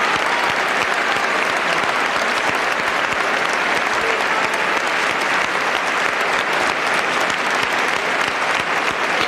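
A large crowd at a 1992 political rally in Padova keeps up thick, unbroken applause, loud and even throughout with no voices rising above it.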